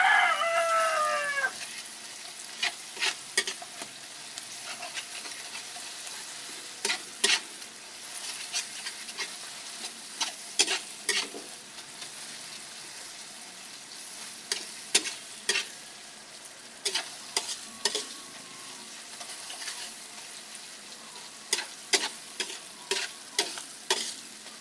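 Ingredients sautéed in a pan with a soft steady sizzle, punctuated by frequent sharp clinks and scrapes of stirring, fairly quiet, with faint bird calls early on and no talk.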